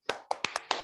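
Five quick, sharp hand claps from a group of participants at an Indonesian school training session, clapping a short spirited rhythm together.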